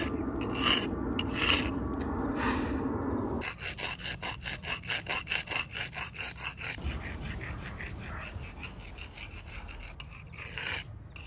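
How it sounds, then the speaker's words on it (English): Rasp filing the edge of a granite plinth, first in a few slow scrapes, then a quick run of even rhythmic strokes, close and fairly quiet with no talking. "I'm also gonna use a rasp to take off that 90-degree edge"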